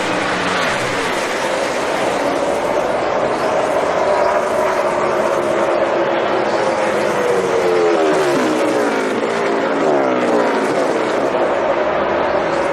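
NASCAR race cars roaring around Pocono on the final lap, a dense, continuous engine drone that swells and shifts in pitch as the pack passes, loud and steady throughout.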